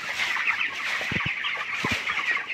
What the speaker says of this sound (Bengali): আপনারা ব্রয়লার মুরগিও বলেন।